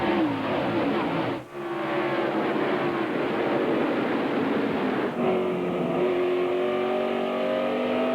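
Field of NASCAR Busch Series stock cars roaring under acceleration at the green flag of a 2000 Sam's Town 250 race, a loud continuous engine blare with rising pitch, a brief dip near 1.5 seconds as the sound shifts.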